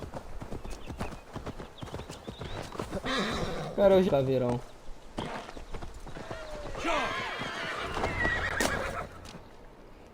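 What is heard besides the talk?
tribal horse mount galloping and neighing in Assassin's Creed Valhalla video game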